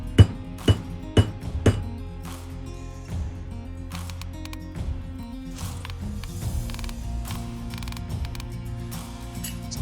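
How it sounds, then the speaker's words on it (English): Several sharp metallic hammer taps in quick succession, then quieter clinks and scraping of a part being worked loose from a failed Cadillac Seville TH400 transmission. "I'm trying to carefully hammer one side down to get it out without scratching anything."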